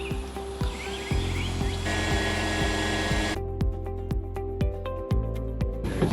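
A power trim motor lowers the outdrive on a big-block boat, giving a steady electric whirring hum with regular clicks and knocks, which shifts in tone partway through as the drive travels down.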